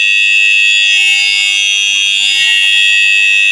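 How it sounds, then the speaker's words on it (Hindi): A washing machine's timer bell rings as a continuous, loud, harsh electric buzz, steady throughout with no pauses and no voices. "अभी घंटी भी चेक कर लेते"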